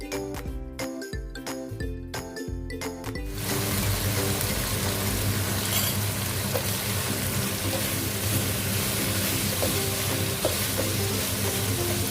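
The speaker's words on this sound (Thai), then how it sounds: "ตอนผัด เราควรจะใส่น้ำ ผัดจนกว่าหัวหอมจะนิ่ม" Onions stir-fried with added water in a pan give a steady, dense sizzle that sets in after about three seconds of tonal music and keeps on loud and close to the end.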